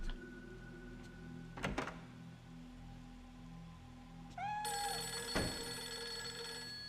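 Telephone ringing inside a horror video game, a bright electronic trill that starts partway through and keeps sounding steadily, after an earlier thud and a soft meow-like cry, with no talk over it.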